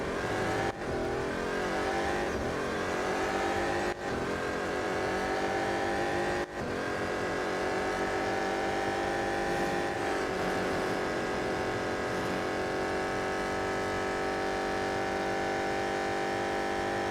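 BMW M Hybrid V8 race cars in Real Racing 3 with a continuous, loud, high-revving engine whine that rises and falls through gear shifts, close up and uninterrupted.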